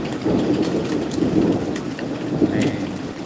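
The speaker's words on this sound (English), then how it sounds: "it's not that abnormal, I don't think, for this area to have storms like this." Steady, dense rain pours down during a thunderstorm, with low rolling thunder rumbling beneath it throughout and a few sharper drips standing out.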